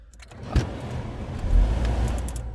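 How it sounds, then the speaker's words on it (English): Scion tC engine idling steadily after a new alternator install, a low continuous hum with a brief bump near the start and a slight swell midway, heard close up with no talk. "you're gonna definitely want to start the car, make sure everything's operational with the alternator"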